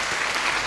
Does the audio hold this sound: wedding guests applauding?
yes